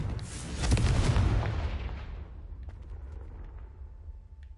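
Confringo fire spell in Hogwarts Legacy going off as a single booming explosion, swelling quickly into a heavy rumbling blast and then fading into a long, dwindling crackle and low roar.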